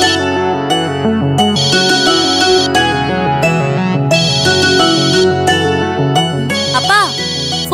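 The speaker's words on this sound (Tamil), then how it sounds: "ஃபோன் அடிக்குது." A phone rings in a Tamil TV serial scene, a loud repeating electronic melodic ringtone in bursts, with brief voices in between.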